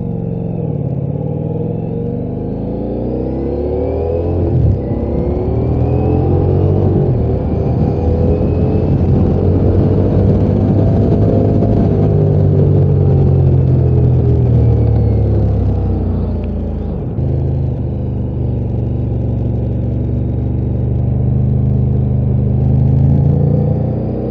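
Ducati Diavel V4 2023 motorcycle engine running close by, a steady, loud mid-pitched rumble that swells and revs slightly through the middle, with no voices over it.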